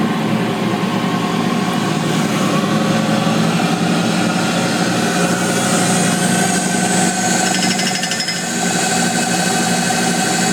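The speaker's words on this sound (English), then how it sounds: "We're going to power it up to show you that it does." A JET 15-inch drill press spinning at high speed near 5,300 RPM: a steady, loud, whirring motor hum with a bright mechanical whine, running continuously throughout with no talk over it.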